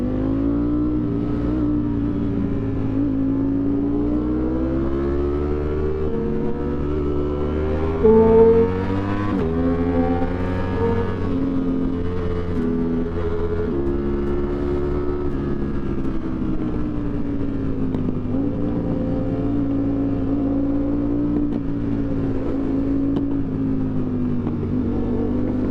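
A sport motorcycle engine hums close and loud through a long ride, its pitch rising and falling as the throttle is revved and eased, with one sharp burst partway through.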